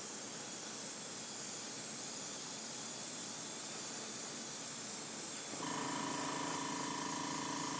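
A steady hiss of spray paint being applied heavily to a part that already has one coat, continuous and fairly quiet, with a second, brighter humming spray tone joining partway through.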